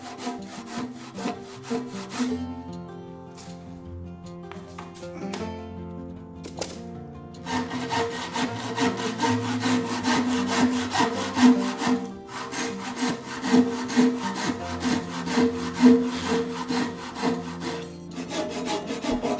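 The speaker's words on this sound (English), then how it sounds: "the finish would be better with a handsaw" A handsaw cuts a wood tenon in steady back-and-forth strokes, with rasping pulls that grow louder and more regular after a short pause partway through, close and continuous with no talk.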